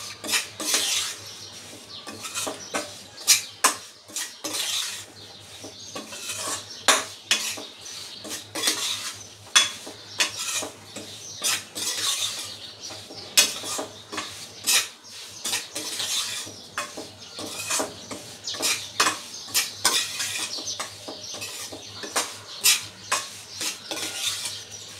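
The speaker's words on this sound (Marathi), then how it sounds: "मीडियम टू हाय फ्लेमवर तुम्ही भाजा, म्हणजे व्यवस्थित भाजला जाईल." Semolina is dry-roasted and stirred in a pan over medium to high flame, giving close, continuous scraping and clinking of a spoon against metal with a faint sizzle underneath, no talking.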